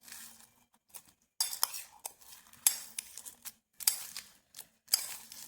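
A metal spoon clinks and scrapes against a bowl while mixing masala sweet corn with red chilli and salt, in short repeated bursts of stirring close by, with no talking.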